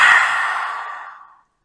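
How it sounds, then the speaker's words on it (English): A single forceful open-mouth exhale with the tongue stuck out, a breathy roar during yoga breathing practice, loud at first and tapering off over about a second and a half. "Stick out your tongue and let it out through your mouth and make some noise."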